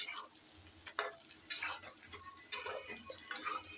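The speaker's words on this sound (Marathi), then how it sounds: "आणि वांगी पण मस्त अशी मसाल्यामध्ये परतून घ्यायची." Stuffed brinjals turning in masala in a pan, with a quiet low sizzle and intermittent scraping stirs, soft and close, no voices.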